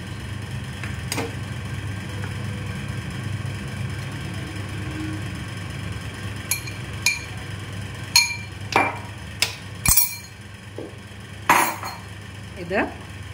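Cooked macaroni dropped into a pan and stirred with a utensil sets off a run of sharp scraping clinks and knocks in the second half, over a steady low kitchen hum, with no voice.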